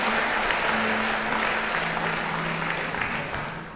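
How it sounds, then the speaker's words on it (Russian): Sustained, dense applause from a concert hall audience at a symphony orchestra festival performance, a steady even roar of many hands that slowly fades toward the end. "пока мы их провожаем бурными аплодисментами"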